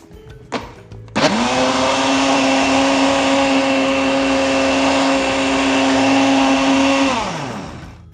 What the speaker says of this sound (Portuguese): E vamos bater mais uma vez.